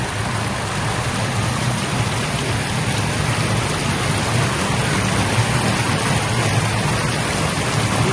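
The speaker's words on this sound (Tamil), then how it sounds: "மழை இருக்கு." Steady rain falls outdoors at a hotel in Abu Dhabi, a constant dense hiss with no break and no voices.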